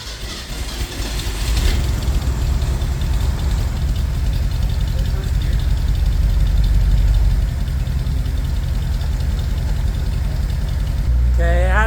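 A Ford F100 pickup with long glass pack mufflers starts up and settles into a steady, loud low rumble at idle, holding evenly to the end with a brief voice near the close.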